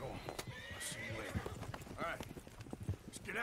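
Horse hooves clip-clop in a quick rhythm with a sharp whinny, close and clear, set in a video game with voices talking over the action.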